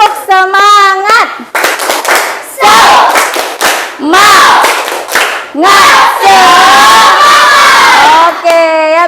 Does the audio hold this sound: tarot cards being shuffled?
no